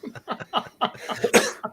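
One person sneezes with a sharp, loud burst near the end, just after a few short breathy vocal sounds, close to the microphone.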